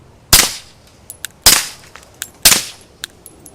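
Three sharp suppressed gunshots from a 9mm Q Erector rifle ring out about a second apart, each a crisp crack with a short tail, with faint clicks and metallic clinks from the action in between.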